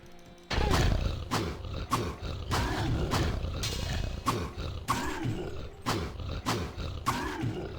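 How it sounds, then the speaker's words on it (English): A monster in Diablo with the Belzebub mod lets out a scary, loud growling roar, repeated in a steady series of deep rumbling bursts with creaking clicks, over several seconds without talk. "That is a scary roar."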